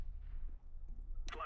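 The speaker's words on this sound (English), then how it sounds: "Deploying flashbang. Throwing flashbang." In a video game, a flashbang grenade is thrown and goes off: a quiet, muffled stretch leads to a sudden sharp, bright burst near the end with a thin ringing tone after it.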